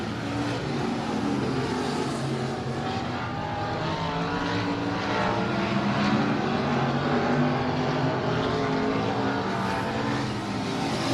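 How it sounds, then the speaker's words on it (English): IMCA modified race cars roar around a Texas dirt speedway during a heat race, a continuous loud engine drone with shifting pitch as the pack circles the track. "that's how your IMCA heat race number 1 is running with 1 lap down, 1 lap to go"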